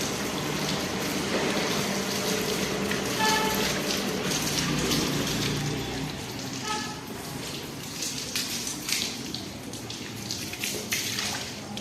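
Water splashes and runs continuously as a surface is rinsed after scrubbing with detergent powder, a steady close gushing that grows more uneven toward the end.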